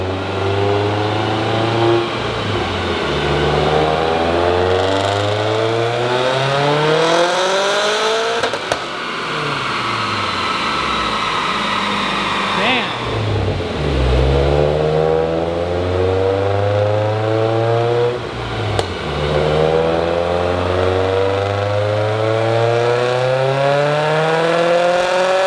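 A stock EJ255 engine in a Subaru WRX with a stock five-speed, running on E85 fuel, revs hard on a dyno through repeated rising pulls through the gears, loud and close, with sharp shift drops between sweeps.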